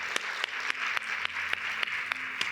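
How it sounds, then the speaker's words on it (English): Applause for a panel at a coaching conference, a steady wash of hand clapping from a seated audience with a few sharper claps standing out, continuous and moderately loud. "And a big round of applause for our panel."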